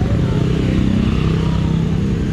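A motorcycle idles nearby, its engine holding a loud, steady low rumble without revving, with no speech over it.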